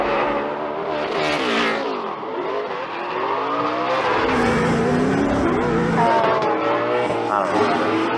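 Drift cars in a tandem drift at Charlotte rev hard and continuously, engines wailing up and down in pitch with tire squeal mixed in, loud and sustained throughout.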